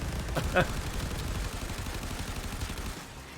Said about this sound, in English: Those are loud pistols on.